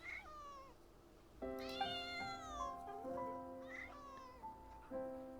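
A Genshin Impact character voices cat-like meows, a few drawn-out, pitched mews over a sustained musical tone, one voice imitating a cat.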